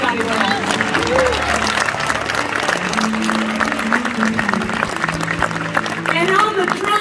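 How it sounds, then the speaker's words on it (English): A concert crowd in Skokie, Illinois applauds steadily and loudly throughout, with dense clapping, scattered cheers and voices mixed into the roar. "please give a huge round of applause to my most patient band"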